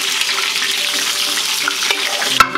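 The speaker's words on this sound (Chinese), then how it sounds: "葱姜八角放进来爆香，干辣椒继续放进来爆香" Scallion, ginger, star anise and dried chilies fry loudly in hot rapeseed oil, a steady close sizzle with light stirring clatter and a sharp knock near the end.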